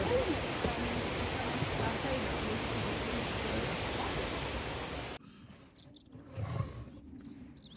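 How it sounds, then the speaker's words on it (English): Waterfall on a Brecon Beacons trail, a steady broad roar of falling water that cuts off abruptly partway, leaving a quieter background with a brief nearby rustle. "it's a lovely waterfall"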